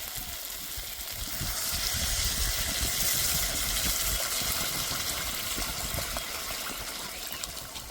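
Water poured into a pan of browned pointed-gourd and shrimp curry, a steady close gushing and bubbling rush lasting several seconds at even loudness.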